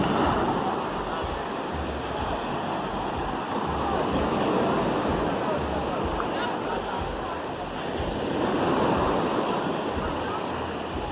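Ocean surf rolling onto St. Pete Beach under a sunny sky, a continuous broad wash of breaking waves with gusty wind buffeting the microphone, swelling louder near the end.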